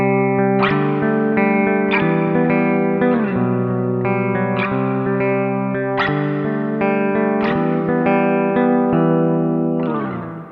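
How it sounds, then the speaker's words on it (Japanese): A BOSS RV-6 reverb pedal on its plate mode with the knobs at noon gives a semi-hollow 335-style guitar in the mixed pickup position a lush tail. Strummed chords fall steadily about every second and a half, each ringing into the next, and a final chord fades out. "こんな感じのプレートリバーブがかかります。"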